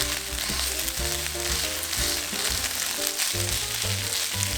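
Rice fries in a pan with garlic butter, giving a loud, steady, close sizzle throughout with bursts of stirring and scraping. No one speaks.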